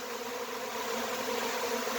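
A large honeybee swarm buzzes steadily, a dense continuous drone close by that holds level for the whole stretch, with no voices over it.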